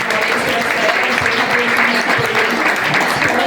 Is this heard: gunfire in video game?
no